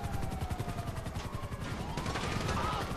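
Rapid bursts of gunfire in Grand Theft Auto Online crackle in a dense, continuous barrage, with a whining tone sweeping through the background.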